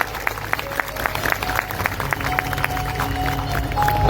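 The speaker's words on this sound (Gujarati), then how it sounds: "એની સેવાને એક વખત તાળીઓથી આપણે સન્માનિત કરીએ" An audience at a Hanuman Chalisa religious discourse gathering breaks into applause, a steady patter of many hands clapping that builds slightly toward the end, with a faint murmur of voices underneath.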